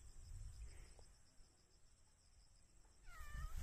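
A cat meows out on a farm among chili and corn plants, a short wavering call near the end following a quieter earlier cry, over steady insect chirping and rustling outdoor noise.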